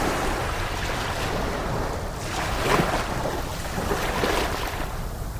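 Rough sea waves crash against a rocky reef far below, a steady broadband wash of surf with swelling surges around the middle and later, loud and continuous with no voices.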